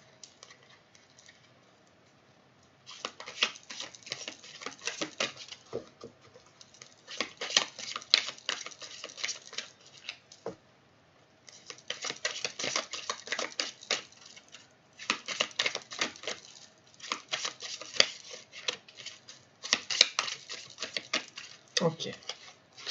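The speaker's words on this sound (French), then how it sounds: "Alors ici, je vais remélanger aussi." Tarot cards are reshuffled by hand in several bursts of dense, crisp riffling and patter, separated by short quiet gaps, close and fairly soft.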